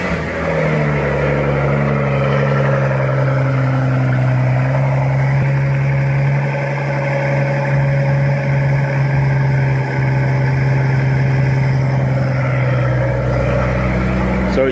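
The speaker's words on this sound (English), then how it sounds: "So I'm going to show you guys a cold start now with mufflers." A car engine cold-starts with mufflers fitted, settling into a loud, steady idle with a deep low drone that holds evenly for about fifteen seconds.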